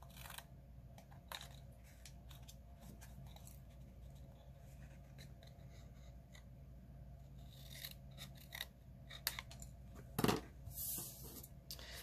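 Scissors snipping the corners off a cardstock box for a handmade desk caddy, a few faint, quiet cuts scattered across a near-silent room, with one sharper crisp snip toward the end.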